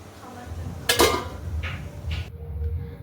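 A lid is set onto a pot of boiling vegetables, a bright metallic clank followed by lighter clinks, with the boiling dropping away to quiet at the end.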